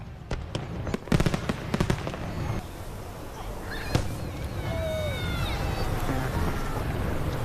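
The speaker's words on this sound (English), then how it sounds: "In case you missed the big fireworks show, here are some of the highlights from last night over the river." Fourth of July fireworks over the river in Rochester crackle and pop in quick bursts early on, then thinner bangs over a dull rumbling wash, with faint whistling streaks and distant crowd noise.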